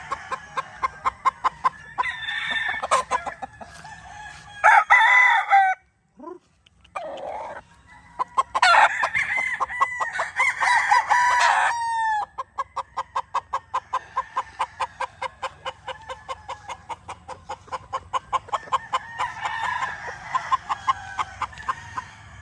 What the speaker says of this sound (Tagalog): Ang gwapong manok nito.